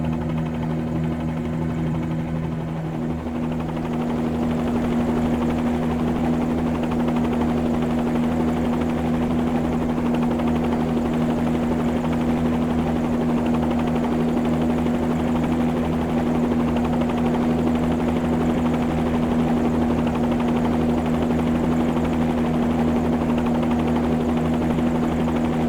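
A Bell 47-G2 helicopter holds a hover in Microsoft Flight Simulator 2020, its rotor and piston engine making a loud, constant droning buzz with a strong steady hum that runs unbroken and without speech.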